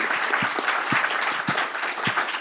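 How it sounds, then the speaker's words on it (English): Conference audience applauding at a COP28 sustainable aviation fuel session, a loud burst of rapid clapping from a room full of people, steady and close, with no talk over it. "So Haldane, can we just give Haldane a thank you?"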